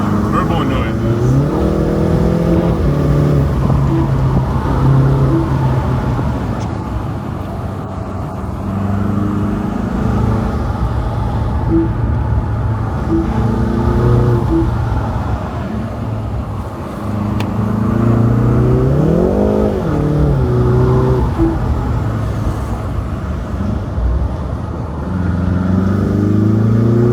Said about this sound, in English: Turbo noises.